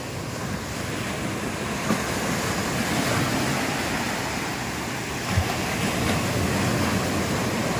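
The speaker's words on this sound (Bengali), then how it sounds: "মৌসুলি আইল্যান্ডের সমুদ্র রাতের বেলা এখন উতাল একদম" Rough sea waves surge and roar at night on the shore of Mousuni island, a dense, continuous wash of surf with wind buffeting the microphone and occasional louder breaking crashes.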